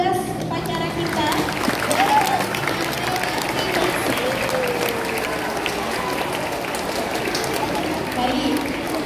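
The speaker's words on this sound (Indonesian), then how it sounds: "mari kita berikan tepuk tangan yang meriah untuk petugas upacara kita" A school assembly at a flag-raising ceremony applauds the ceremony officers: sustained, crackling clapping from a large crowd outdoors, fairly even throughout, with scattered voices mixed in.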